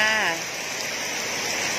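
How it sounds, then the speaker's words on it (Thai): Heavy rain pours beside a big road where people wait for a tour bus, a dense steady hiss that fills the whole stretch, with a voice briefly heard at the start. "ฝนก็ตกหนักมาก มันจะนี่นี่เปียกหมดเลยค่ะ"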